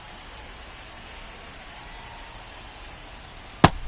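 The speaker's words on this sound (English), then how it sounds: "This rain is not letting up." Simulated rain falls during a Dodgers vs Pirates baseball game in MLB The Show 26, a soft steady hiss running throughout, broken near the end by one sharp, loud crack.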